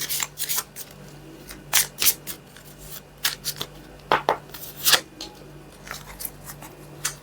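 Oracle cards are shuffled by hand in a series of crisp, irregular snaps and flicking rustles, close and fairly quiet, with short gaps between bursts.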